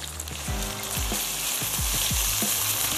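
Garlic and ginger sizzling as they fry in a pot with oil, a steady crackling hiss with a few stirring knocks against the pot, close and alone without talk.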